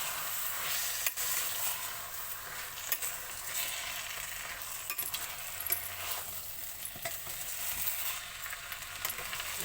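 Ingredients for Telugu-style coconut rice sizzle steadily in a hot pan, a dense, bright frying hiss with occasional clicks of a utensil against the pan and no talking.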